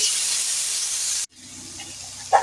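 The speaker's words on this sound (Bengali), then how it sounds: "হলুদ দিয়ে আমি মিনিট 2 মতো এইভাবে কষাতে থাকবো" Potatoes and eggplant stir-frying with turmeric in a pan give a loud close hiss that cuts off abruptly midway. Quieter stirring and sizzling follows, with a short sharp burst near the end.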